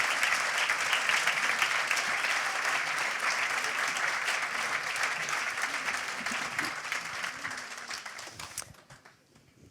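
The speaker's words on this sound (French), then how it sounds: "je vous demande d'applaudir Bill François" Sustained audience applause for Bill François at a French talk on oceans and rivers, dense and steady clapping that fades out near the end.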